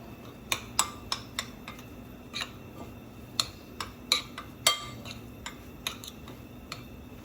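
Falafel mixture being mixed by hand after baking powder water is sprinkled over it, giving a string of light, irregular clicks and taps against the bowl, fairly close and quiet, with no talking.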